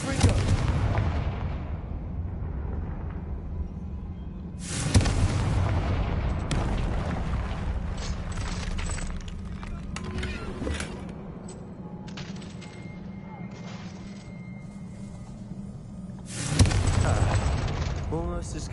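Confringo blasting-spell explosions in a Hogwarts video game: booming blasts at the start, near five seconds and again near seventeen seconds, each with rumbling decay, over steady game ambience with character voices speaking in between.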